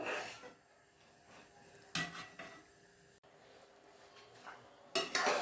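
A spoon stirs sweet rice-flake sheera in a metal pan, with quiet scraping and a few sharp clinks against the pan, the loudest bursts near the start and end, and no voices.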